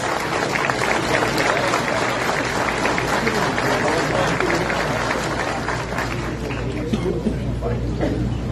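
An audience in a municipal council chamber applauds the honorees at a solemn session, with dense, sustained clapping that fills the room and runs unbroken throughout.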